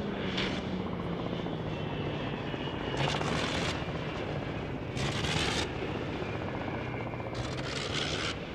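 A vintage propeller plane's engine drones steadily and close as it comes in to land on a grass strip, with a few sharper rises in power and no talk.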